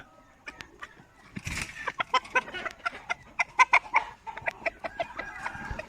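Chickens clucking close by in a busy stream of short, sharp calls and squawks, with a brief louder flutter early on and no talk.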